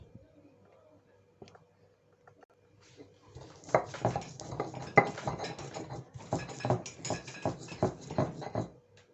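Andaliman pepper pounded in a mortar and pestle, a run of quick, close, sharp knocks and clinks that starts faint and then settles into a steady, fairly loud rhythm lasting several seconds.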